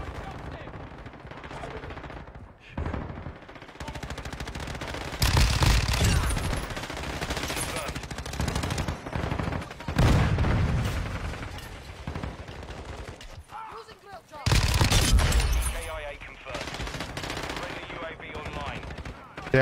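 Bursts of rapid automatic gunfire and single shots in a video game shootout, loud and sustained in several long volleys, with a voice talking in between.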